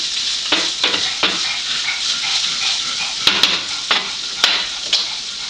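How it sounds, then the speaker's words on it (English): Onions sizzling and frying in a pan while being stirred, with a steady close hiss and sharp clattering stir strokes every second or so. "Just give it a good stir. Make sure you get your onions in."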